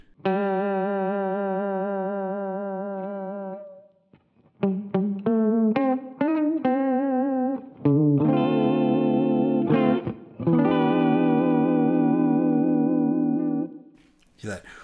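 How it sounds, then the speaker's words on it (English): Electric guitar chords through a MayFly Audio Sketchy Zebra pedal ring out with a wavering, pitch-shifting vibrato effect, sustained then played in several short bursts and longer held strums. "you can hear a little bit more of that kind of vibrato sound"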